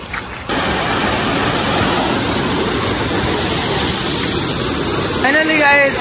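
Steady roar of a waterfall at Sudhagad near Pali, broadband rushing water heard close and continuous, with a short voice near the end.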